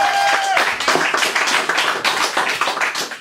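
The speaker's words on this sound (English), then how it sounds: "more applause for Amy" Audience applause at a poetry cafe evening, dense, close clapping with some scattered cheers sustained for about three seconds.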